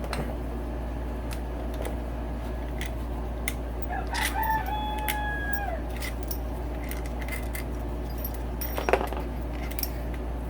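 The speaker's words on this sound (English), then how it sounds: "he starts crowing. He thinks it's another rooster out there somewhere." A rooster crows once at moderate distance over a steady low hum, with scattered clicks and clatter around it in a workshop during a dirt bike engine rebuild.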